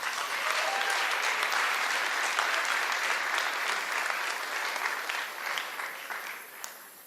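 A high school senior awards audience gives steady, dense applause for students honoured in a language award, sustained and then slowly thinning toward the end.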